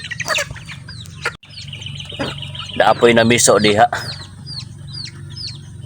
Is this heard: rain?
no